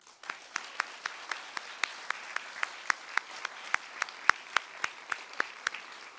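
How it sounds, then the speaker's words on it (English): An audience at a graduation ceremony gives sparse, distinct hand claps for teachers and staff, a steady patter of individual claps, fairly quiet and spaced, with no talking. "Let us all give a round of applause for our teachers and staff here at CDS."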